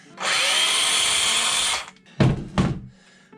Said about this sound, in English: A few nails here and there for the trim.